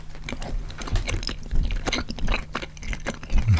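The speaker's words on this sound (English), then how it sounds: "They're not hard to chew." Soft peach ring gummy candy chewed close up, giving wet, squishy mastication with light crunchy bites in an uneven, continuous rhythm and no speech.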